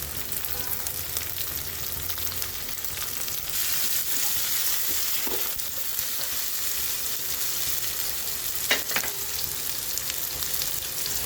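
Pabda catfish frying in oil with chopped tomatoes, before any spices are added: a dense, steady sizzle close by, with occasional stirring clatter.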